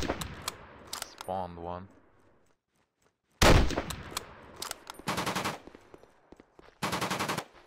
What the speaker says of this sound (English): That's an anti-aircraft gun.